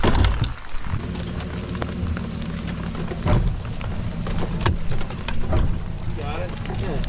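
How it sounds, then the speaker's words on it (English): Heavy rain drums steadily on a bass fishing boat, with loud, close pattering all the way through and voices talking over it. "Yeah, that's big rain, Bubba"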